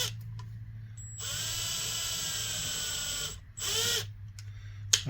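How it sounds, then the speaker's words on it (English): A power drill fitted with a tap cuts threads into a hole, whining steadily for a few seconds, stopping briefly, then running again in short bursts, close and fairly quiet. "I'm going to take my drill with my tap"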